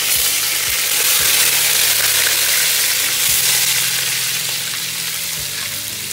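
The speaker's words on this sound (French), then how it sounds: "Je rajoute et je vais faire laisser frire tout ça." Fish and a sauce mixture fry in a pan for Senegalese tchep rice, giving a loud, steady, close sizzle that hisses evenly throughout with no voices.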